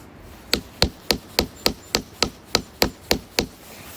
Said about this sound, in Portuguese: Martelar bem.